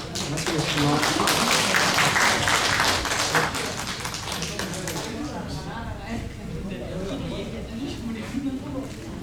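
An audience at a tax-saving lecture for small business owners by a tax accountant claps in a dense burst of applause that gradually thins and fades, with speech heard alongside.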